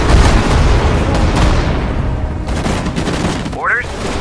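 A World War II battle on Saipan in the strategy game Sudden Strike 4 fills the air with dense gunfire and booming explosions, a constant loud rumble of shots and blasts, with a short radio-like voice near the end.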